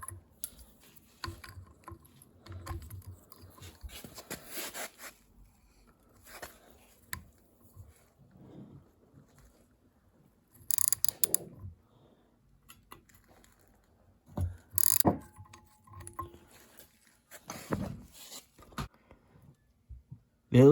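A thread tap cuts spark plug threads in a Kawasaki KZ750 cylinder head, giving quiet, scattered metallic ticks and scraping bursts with pauses between turns, close up and alone.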